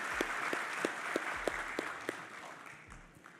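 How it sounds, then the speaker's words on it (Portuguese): Sustained applause at a formal anniversary ceremony honouring parliamentarians, heard faint and distant as a steady wash of many hands, with a few sharper claps standing out before it thins toward the end. "Queria pedir uma salva de palmas para Wellington Luiz e para todos os parlamentares dessa cidade"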